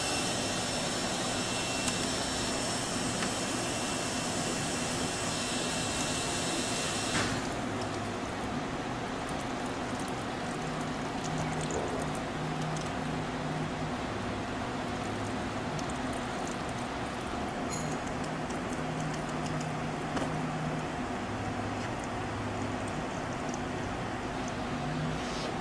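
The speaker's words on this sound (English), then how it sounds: "So we homed all the axes, started the pump, looks like the wire feed." A 1984 Elox-Fanuc Series L CNC wire EDM machine running with its pump started gives a steady, loud mechanical drone and hiss, with a high-pitched component dropping away after several seconds.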